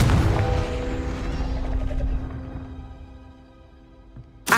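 A Confringo explosive spell cast in Hogwarts Legacy: a loud fiery blast at the start that rings out and decays over several seconds, followed by a sharp new burst at the very end.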